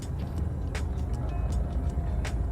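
A Mitsubishi Pajero V46 being driven, its engine and road noise a steady low rumble with faint intermittent ticks and rattles from inside the cabin.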